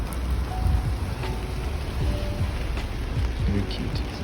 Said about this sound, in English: Very rainy today, but still trekking on.